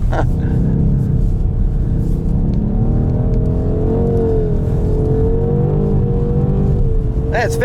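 A 530 hp BMW M850i xDrive coupé accelerates hard on a loose surface, its engine droning loud and steady from inside the cabin with rising and falling pitch and a shift near the end; people talk over it.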